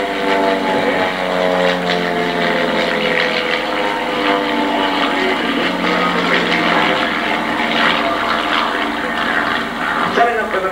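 Aerobatic propeller aircraft of a formation team flying at an airshow, a sustained engine drone with shifting pitch, fairly loud over crowd noise.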